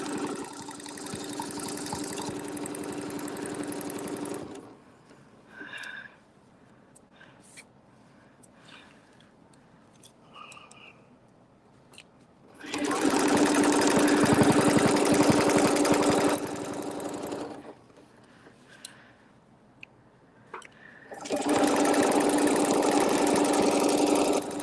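A sewing machine runs a quarter-inch seam in two long steady bursts with a short stitch forward and back, its motor hum loud and close, separated by quieter pauses with faint handling noises.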